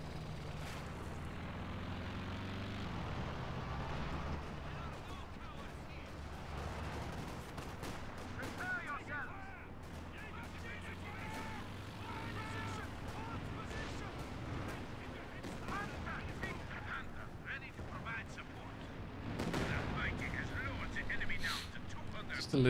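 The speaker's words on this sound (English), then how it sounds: "a little bit of artillery going in on the little leak." Artillery fire and battle noise in the Company of Heroes 2 video game, continuous dull booms and crackling gunfire at moderate distance, a steady rumbling din mixed with a faint commentator's voice.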